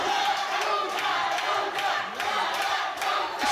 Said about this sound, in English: this is just all of us cheering